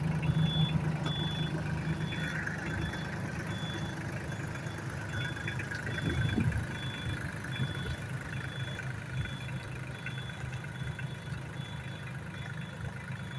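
A slow tractor's engine runs steadily throughout a tractor race, a loud, continuous low rumble with a faint high tone above it and a brief surge near the middle.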